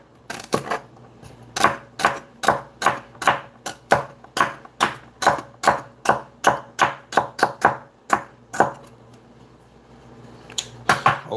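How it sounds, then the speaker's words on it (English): Fresh celery being chopped with a knife, a quick, steady run of crisp crunching strokes, close up, with a short pause before a final few cuts. "It's the sound of the fresh celery."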